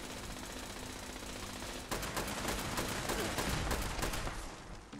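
Automated turrets in Fallout 76 open fire on the player inside a bathroom facility, a sustained burst of rapid, close, loud gunfire that grows harsher after the first two seconds and keeps going to the end.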